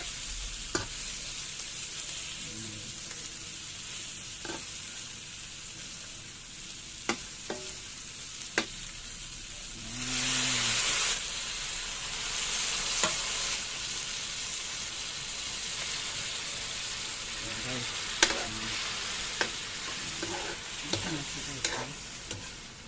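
Tomatoes sizzle and hiss steadily in a frying pan, with scattered clinks of a utensil stirring and a brief louder burst of sizzling partway through, close and continuous with no talking.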